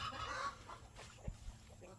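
Chickens cluck in a backyard chicken pen, with a few short, soft clucks and calls at moderate distance over a low outdoor background.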